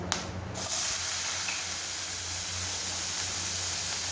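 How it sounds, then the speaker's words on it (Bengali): Chopped onions drop into hot oil already tempered with bay leaves, dried red chillies and whole garam masala, setting off an abrupt, steady sizzling hiss that continues loud and close without pause. "কুচানো পেঁয়াজ কুচি দিয়ে দিলাম।"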